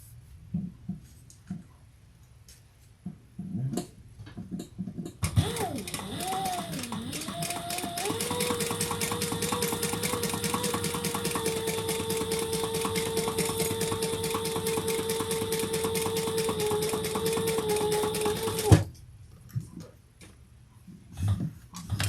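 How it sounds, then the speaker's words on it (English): A sewing machine stitches around the seam of a crossbody bag, running a long steady buzzing hum with a faint rhythmic tick for about thirteen seconds, framed by quiet handling noises before and after. "And we're going to stitch here all the way around."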